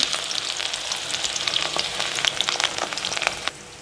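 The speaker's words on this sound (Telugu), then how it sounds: "ఆనియన్స్ వేసి ఒకసారి ఇలా కలుపుకున్నాము ఆనియన్స్ కొంచెం బ్రౌన్ కలర్లో వచ్చి గోల్డ్ కలర్లో వచ్చినంత వరకు వేయించుకున్నాము" Onions and mustard seeds fry in hot oil in a pan, giving a steady loud sizzle with crackling pops and occasional scraping as the mixture is stirred; no one speaks.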